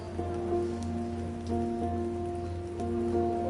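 Steady rain falls across a game world modeled on rainy Edinburgh, an even hiss of drops spread over a soft background tone, with no voices present.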